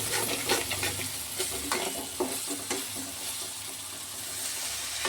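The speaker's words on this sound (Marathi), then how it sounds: "चला आपण आपल्या मसाल्याला हलवून घेऊ छान" Dry masala of red chilli, coriander powder, salt and turmeric is being stirred and scraped in a hot pan for an egg tawa masala. The sizzle is steady, broken by irregular spatula scrapes and clacks, at moderate loudness.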